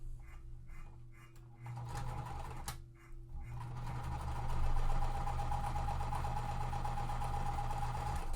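A sewing machine stitches quilt pieces placed right sides together. It runs in short, close bursts, then settles into a steady, louder hum of stitching, with no speech.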